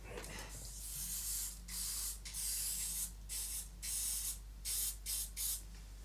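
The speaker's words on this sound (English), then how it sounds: "Let me do a little test spray on a piece of card." Several short bursts of an aerosol can spraying onto a piece of card, hissing in quick separate pulses of varying length, close and fairly loud, with no talking.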